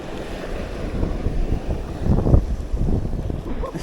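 Sea waves wash and slap around a small boat, with heavy wind noise buffeting the microphone and a louder surge of water partway through. A voice can be heard faintly under the noise.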